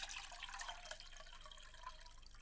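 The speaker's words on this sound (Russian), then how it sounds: "Льем воду" Water poured into a thick-walled tiger's eye singing bowl about 15 cm across and weighing 661 g makes a steady, close trickling and splashing that runs unbroken for the whole stretch, with no voices.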